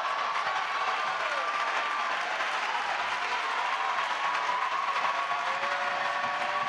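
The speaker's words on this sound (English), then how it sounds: "Now the Cabrini crowd is up and loud." Basketball crowd at a college conference championship game cheering and roaring loudly, a dense continuous wall of noise with a whistle-like tone running through it.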